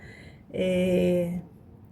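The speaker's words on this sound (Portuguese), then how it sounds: "o meu vizinho cismou de aspirar o carro dele agora" A neighbor vacuums his car somewhere in the background, a steady droning whine that starts abruptly, holds for under a second, then cuts off, moderately loud against quiet surroundings.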